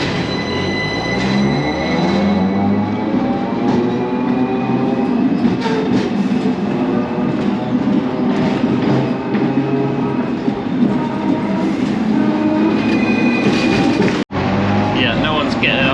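A Hong Kong tram rumbles along with a loud, continuous rolling roar and metallic screeching overtones, heard from close on board, with a brief dropout near the end.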